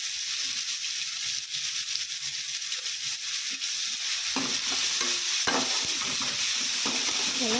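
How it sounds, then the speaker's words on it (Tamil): Onions and tomatoes with turmeric and salt are sautéed in oil for chilli chapathi, giving a constant bright sizzle, with clattering spatula stirs joining midway, close and fairly loud with no talking. "எல்லாம் போட்டு நல்லா வதக்கிக்கலாம். வதங்கி வரட்டும். வெங்காயம், தக்காளி எல்லாமே வதங்கி வரட்டும்."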